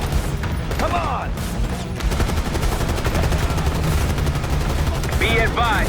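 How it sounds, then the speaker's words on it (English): Rapid automatic gunfire in the video game Call of Duty Black Ops 6, loud and continuous bursts of rattling shots with mechanical clatter and brief whizzing sounds, a battlefield barrage with no clear speech. "Laying cover fire!"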